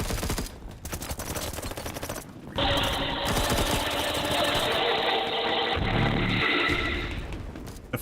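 Sustained automatic gunfire from the video game Battlebit, loud and close, rattles in rapid bursts and then runs as one long continuous stream for several seconds.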